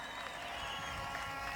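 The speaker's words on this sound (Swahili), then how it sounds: "Kwanza tupige makofi kwa sababu ya kiapo jamani" An outdoor crowd applauds at a county governor's swearing-in ceremony, a faint, distant, even patter of clapping over a steady background hum.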